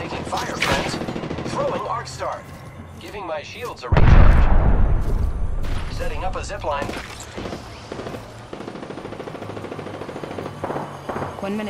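Automatic gunfire and bursts of shots in the video game Apex Legends ring out loudly in rapid volleys with a heavy blast in the middle, while a voice speaks over the action.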